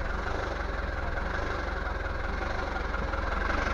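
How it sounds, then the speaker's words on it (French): Inboard engine of a Bavaria 38 sailboat running steadily, a continuous low throbbing rumble with a fast regular pulse, close and constant, with no speech over it. "Là on s'occupe du moteur."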